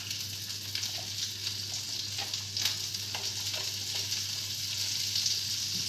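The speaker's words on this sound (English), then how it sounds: "They want to be just fried on each side, so just put them in a single layer." Courgettes frying in olive oil in a frying pan, laid in a single layer, give a continuous close sizzle with scattered small pops and crackles, no voices.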